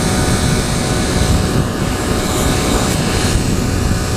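A 2013 Triumph Daytona 675R triple-cylinder sport bike engine roars loudly and continuously under acceleration, a dense buzzing rasp with wind noise, no voices.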